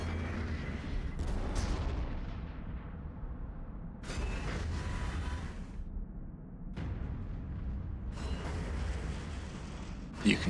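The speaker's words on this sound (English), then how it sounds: "Flipping zap guns everywhere." Ork zap guns blast in a Warhammer 40,000 Armageddon strategy game: several heavy, booming bursts of fire rumble out in separate clusters, each a loud, dense roar that fades before the next volley.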